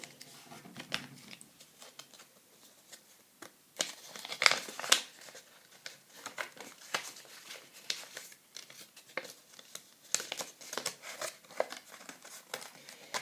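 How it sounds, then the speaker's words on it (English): Paper being folded into a triangle for an art craft, giving soft, close crinkling and creasing rustles in scattered bursts, with sharper crackles as the folds are pressed, and no talking. "Then we're going to fold it in a triangle."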